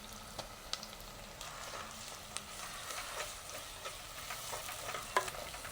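Onions fry quietly with curry leaves and ginger garlic paste for a prawn biryani, a faint continuous sizzle with light, scattered stirring scrapes close by.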